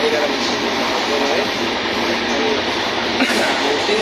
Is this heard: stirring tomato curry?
no